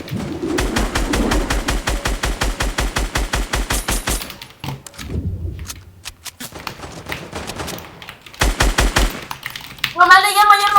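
Gunfire in the video game Project Nova, with rapid automatic bursts, a pause, then another burst and a final rattling sequence, loud and near, with chirpy game effects at the end.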